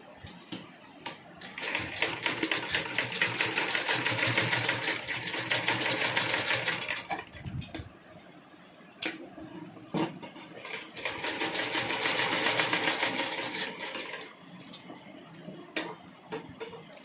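A sewing machine stitches lace onto a tiny doll dress, two long rapid whirring runs of needle clatter separated by pauses with scattered clicks and handling noises.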